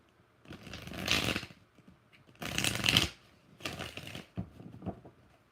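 Tarot cards shuffled by hand in three loud bursts of riffling and flapping, each a second or so long, with short pauses between; no voices.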